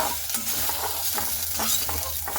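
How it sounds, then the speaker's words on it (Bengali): Sliced okra frying in oil in a kadai, a close, steady sizzle broken by regular scraping strokes of a spatula and no voices. "ভিন্ডিগুলোকে তেলে আমি ভেজে নিচ্ছি।"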